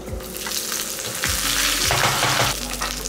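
Dried chillies and curry leaves crackle in hot tempering oil for a green gram dish, a loud close sizzle with sharp popping bursts and a brief stir.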